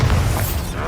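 A Bombarda spell explosion in the Hogwarts Legacy video game, a dense, loud booming burst with heavy low rumble that fills the short moment, with no pause.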